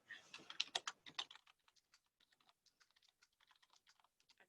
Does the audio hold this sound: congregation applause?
no